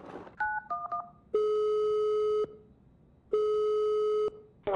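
A phone dials out in the Fortnite video game: a quick series of keypad beeps, then two long, steady electronic tones separated by a short pause, loud and close.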